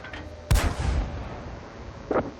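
A Pz.Kpfw. IV Hydrostat tank gun in World of Tanks fires one loud, sharp blast that rumbles and decays over about a second, and a fainter, shorter burst follows moments later.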